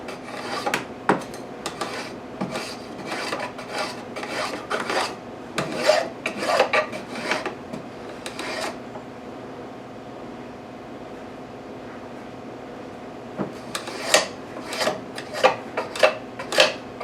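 A file or rasp rounds off the edge of a wooden spatula in close, scratchy strokes: a quick run of strokes, a quieter pause in the middle, then another burst near the end. No talking.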